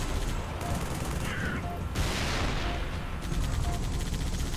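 Gunfire in Halo 3 ODST during a firefight with grunts and a wraith: rapid bursts and shots layered over a loud dense battle roar, shifting in texture across the few seconds.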